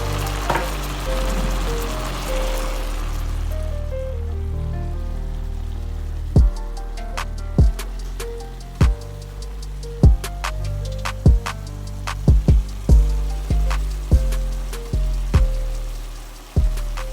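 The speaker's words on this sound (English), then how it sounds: "Start cooking the meat." Ground meat seasoned with salt and pepper frying in a pan for taco salad, a steady close sizzle with sharp crackles and pops growing busier and louder through the second half, no talking.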